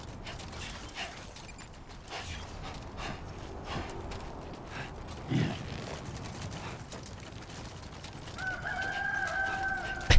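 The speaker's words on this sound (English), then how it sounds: "can hear a rooster." Rooster crowing in the Death Stranding 2 game world, a single drawn-out crow rising midway over a dense outdoor ambience with faint clip-clop hoof sounds and some later tonal game sounds, moderately distant.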